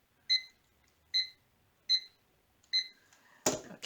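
A timer sounds four evenly spaced high electronic beeps, clean and close against near silence, followed by a short rustling burst at the end.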